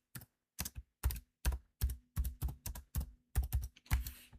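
Rapid keystrokes on a computer keyboard while entering data into an Excel spreadsheet, about a dozen close, crisp clusters of clicks in an uneven typing rhythm with no talk.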